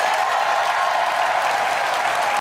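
A short burst of applause sound effect, a dense, even wash of crowd clapping with a faint tonal hum beneath, steady throughout and cutting off abruptly.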